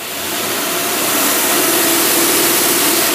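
A carbureted Predator engine runs hard on a torque dynamometer, a loud, steady roar that swells slightly as it holds under load.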